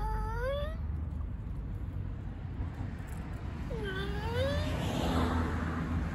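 A stray kitten found on the street gives two rising, plaintive meows a few seconds apart over steady outdoor traffic noise.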